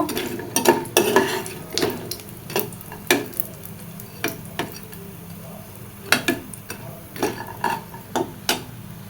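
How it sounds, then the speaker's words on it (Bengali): Bori, small dried lentil dumplings, frying in oil in a pan, with a steady soft sizzle broken by repeated sharp clinks and scrapes of a utensil stirring against the pan. "বড়িগুলোকে সুন্দর মতো ভেজে তুলে নিব"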